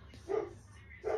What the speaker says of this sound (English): the dog's gone bonkers